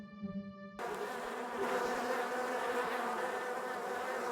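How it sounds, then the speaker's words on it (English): A swarm of bees buzzes in a video game, a dense, continuous droning hum that starts abruptly after a short musical tone and stays loud and steady to the end. "Every time you hear the bees, take a shot."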